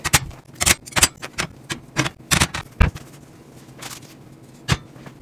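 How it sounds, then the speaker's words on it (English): Zip ties are snipped off a portable field bench kit, a quick series of sharp close clicks and snaps at irregular intervals, thinning out to one last snip. "snip out all of your zip ties so that we can get access to everything"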